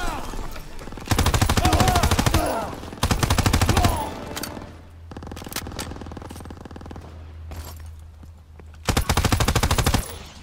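Rapid bursts of PPSh submachine gun fire in Call of Duty WW2 on a battlefield, several long, loud automatic strings separated by short pauses, with rumbling background explosions and gunfire in between.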